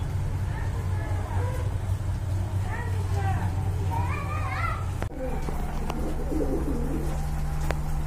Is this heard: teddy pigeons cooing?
yes